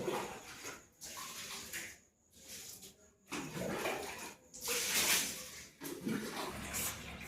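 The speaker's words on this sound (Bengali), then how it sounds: "আর আমি জলটা ভরে দিই" Tap water gushes into containers in a bathroom, coming in uneven splashing bursts with short breaks, moderately close, with no talk.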